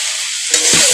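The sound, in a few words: stirring chichinga (snake gourd) curry in a pan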